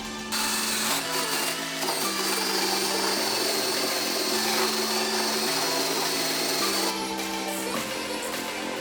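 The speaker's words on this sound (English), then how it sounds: "now I'm going to get my wire wheel, clean all of this back" A wire wheel on a power tool cleans rust off the rear arch of a Honda Integra DC2, droning loudly and continuously with slight shifts in pitch as it is pressed against the metal.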